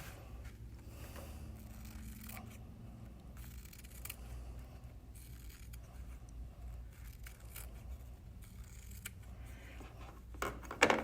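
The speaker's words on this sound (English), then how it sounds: "So I'm going to go ahead and trim off about a 1/4 inch all the way around." Scissors trim about a quarter inch of fabric all the way around a circle for a quilt yo-yo. The snips are quiet and close, with repeated small cuts and rustling of cloth over a faint low background hum.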